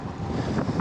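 Wind buffets the microphone in a rough, uneven rumble during a rainy mountain bike ride on Lanzarote, close and gusty over a brief stretch.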